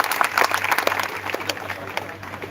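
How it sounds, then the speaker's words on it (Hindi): Audience at a poetry gathering breaks into applause, a burst of clapping from many hands that is strong at first and thins out, with a low hum underneath. "ताली बजाओ यार एक बार बढ़िया से।"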